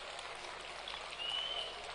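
Studio audience applause on a Ramadan television broadcast, a steady, soft wash of many hands clapping, distant and even throughout.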